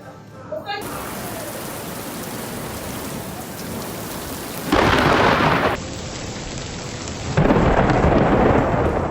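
Heavy rain pours steadily near a football field, then loud, broad cracks and rumbles of thunder from a nearby lightning strike burst in twice, each lasting about a second or two over the constant downpour.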